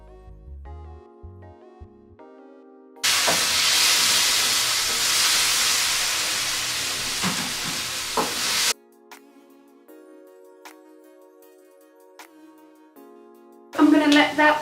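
Tofu hits a frying pan with translucent onions and bursts into a loud, steady sizzle for several seconds, breaking off abruptly, then returning briefly at the end, with quiet music and talk around it.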